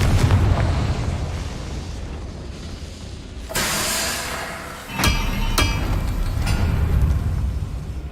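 Confringo fire-blast spells explode in Hogwarts Legacy, a roaring burst followed by sharp cracking impacts over a rumbling game background, loud and close with no speech.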